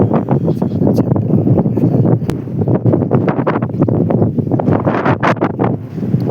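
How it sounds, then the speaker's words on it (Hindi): Morning wind gusts across a village rooftop in the hills, buffeting the microphone in loud, irregular rushes with no talk. "सुबह सुबह ना छत पे आके बहुत अच्छा लग रहा था, हवा चल रही थी"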